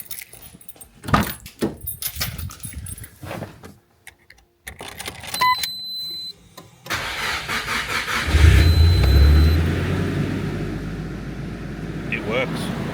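Keys jangle and clicks sound before a car engine cranks and catches, settling into a loud, steady idle close by.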